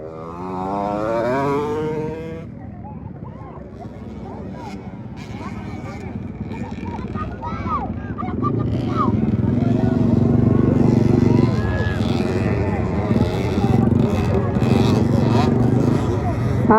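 Small 50cc motocross bikes race on a dirt track, their engines rising and falling in the distance beneath an announcer's excited commentary and crowd noise.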